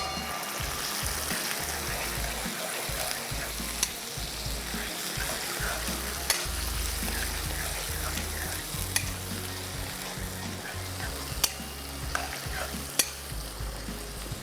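Masala being stirred and roasted in a karahi with a slicer, a steady close sizzle of frying under repeated scraping strokes, with a few sharp clinks of metal on the pan.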